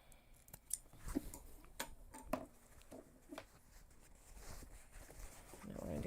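Scissors snipping threads close on a handmade backpack, a few sharp, quiet clicks scattered through a faint, close-up room, with soft sounds of handling in between.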